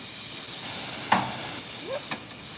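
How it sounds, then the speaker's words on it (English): Tomatoes sautéing with onions in a pan for Greek food, a soft continuous sizzle and hiss with a couple of brief utensil knocks, fairly faint and steady. "I'm going to add my tomatoes in here, especially with those sauteed onions here. And we're going to let these kind of saute up."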